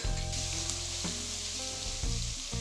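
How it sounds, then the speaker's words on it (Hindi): Two tablespoons of garlic sizzle in hot oil in a pan for a desi-style vegetable fried rice, a steady close frying crackle running throughout with no voices. "इसमें हम शामिल करेंगे 2 टेबल स्पून लहसुन।"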